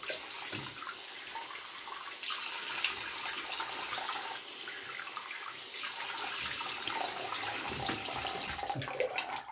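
Cold water runs from a tap into a basin with a steady splashing flow, fairly quiet and close, a few bright spatters breaking through.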